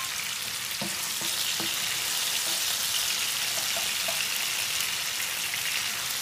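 Meat for gyros-style spaghetti sizzles in a frying pan with a loud, steady crackle. A few faint clinks and stirring taps sound near the start, and no one speaks.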